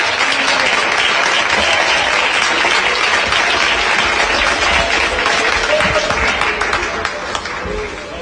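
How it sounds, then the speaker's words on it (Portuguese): A church congregation at an evangelical service claps heartily, loud and dense applause filling the room for several seconds before tapering slightly at the end, with some voices mixed in. "Glorifique a Deus com as palmas bem alegres."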